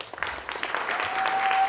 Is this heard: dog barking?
no